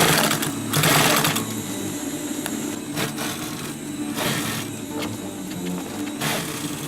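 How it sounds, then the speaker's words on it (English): Sewing machine stitching a reinforcing seam on a DIY sustainment pouch, close and loud, with rapid mechanical whirring in short bursts separated by brief pauses and clicks. "sew it back again once more time from the top to the bottom."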